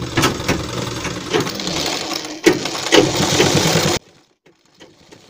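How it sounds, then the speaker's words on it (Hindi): Sewing machine stitching along the neck edge of a half-collar garment, a close, steady whirring run that stops abruptly after about four seconds, leaving near silence. "यहाँ पर हमें गले के किनार पर सिलाई लगाना है।"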